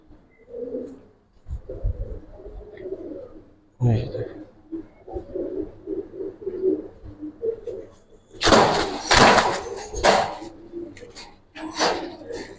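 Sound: Giribaz pigeons cooing

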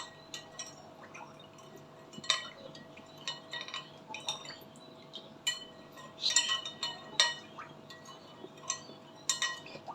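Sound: spoon clinking while stirring sugar into orange jelly mixture

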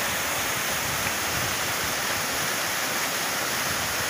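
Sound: waterfall rapids at Cachoeira do Grito, Triunfo, Pernambuco

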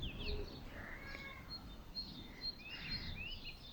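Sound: birds singing

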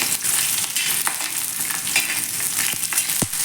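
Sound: green chillies frying in oil

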